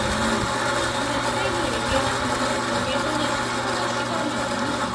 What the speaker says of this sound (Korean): 여기 안에 있는 원두가 다 소진이 될 때까지. 지금은 공회전 중입니다.